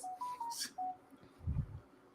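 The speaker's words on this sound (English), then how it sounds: "Oh, somebody's phone's going off." A phone goes off with a short series of electronic tones and beeps, followed by a low bump, fairly faint in the room.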